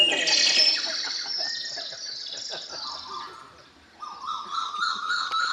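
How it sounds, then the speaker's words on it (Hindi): A flock of birds flying together chirps and tweets continuously, bright and fairly close at first, fading slightly before a fresh burst of calls near the end. "अपनी चिड़ियां सब उड़ती हुई जा रही साथ साथ"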